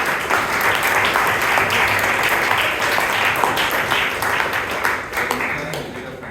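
Members of a Toastmasters club meeting in Bangalore applaud a speaker, a close, loud patter of many hands with some individual claps standing out, while a voice murmurs faintly underneath.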